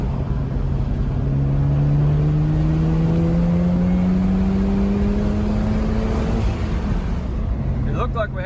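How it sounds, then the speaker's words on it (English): A Mazda FD RX-7 fitted with a high-flow catalytic converter accelerates hard in third gear. Its engine note climbs steadily and loudly, then drops off near the end. "Let's watch this boost gauge in third gear again and see what happens."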